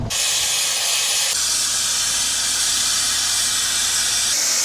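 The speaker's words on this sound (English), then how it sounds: "Kind of steam coming out of that one." Steam hissing loudly and continuously from a geothermal vent in Iceland, a broad, close rushing noise that holds steady throughout with a slight shift partway through.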